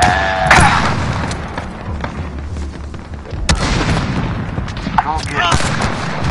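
Loud gunfire and booming blasts in Call of Duty Modern Warfare, as sharp shots crack out over a rumbling battle backdrop and automatic bursts recur in a street fight, with voices faintly mixed in.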